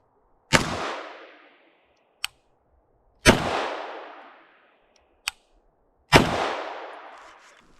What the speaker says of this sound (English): First, I'll shoot 3 rounds unsuppressed of 124 grain Blazer.